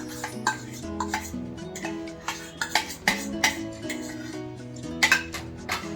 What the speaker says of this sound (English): and again stir it nicely.